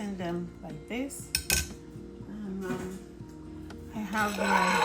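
Tea ingredients including dried hibiscus flowers being rinsed in a bowl, with clinks and scrapes of dishes and utensils, a few sharp knocks, and running water rising at the end.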